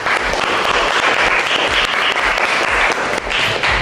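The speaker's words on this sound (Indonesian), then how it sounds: "tepuk tangan untuk Arsi." Applause fills a classroom, a steady patter of clapping hands from a group of students that stays loud and even from start to finish with no talk over it.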